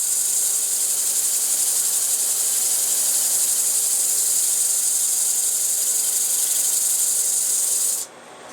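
An orbital sanding pad fitted with a 120 grit disc sands wood with a loud, steady, close hiss that runs unbroken for about eight seconds, then stops abruptly.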